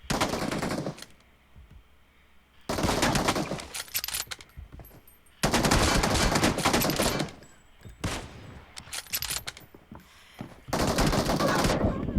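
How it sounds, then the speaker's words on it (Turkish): Rapid bursts of gunfire in a video game, several loud sustained volleys a few seconds long separated by quieter gaps, with rattling automatic-sounding fire rather than single pistol shots. "Tabanca, tabanca tek atıyorum."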